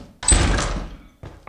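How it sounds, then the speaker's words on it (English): A single loud door opening in the video game Lethal Company, a heavy sliding thunk lasting under a second, then a brief quieter knock after a short pause. "And we got a door."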